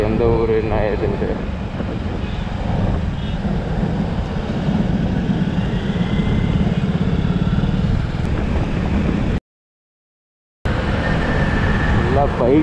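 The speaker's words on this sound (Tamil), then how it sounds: "இந்த சிக்னலில் பார்த்தா ஃபுல்லாக பைக் தான், ஒரே ஒரு காரு" Dense roadside traffic noise at a traffic signal crowded almost entirely with motorcycles, engines idling and revving, a continuous rumble with a brief dropout near the end.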